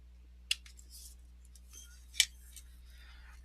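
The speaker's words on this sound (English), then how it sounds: "I'm going to snip away a bit of that." Two sharp snips of cutters trimming a rounded edge off a Greek-themed miniature base on a workbench, isolated clicks about a second and a half apart against a quiet steady hum.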